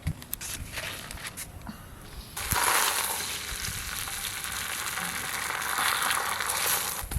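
Lachha paratha fries in a pan at home with a continuous close sizzle that grows louder and denser partway through, with a few soft knocks and scrapes.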